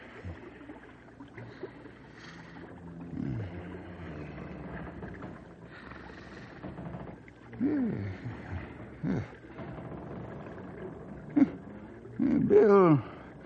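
Man snoring in an old radio drama set during a trestle ice jam, rough groaning breaths repeating irregularly, moderately loud and close, over a low windy background.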